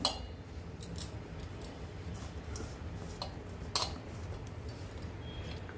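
Spoon mixing cornflour powder into a batter with ginger-garlic paste, giving soft, irregular scraping and light clinks against the bowl, fairly quiet and close, with a couple of sharper taps.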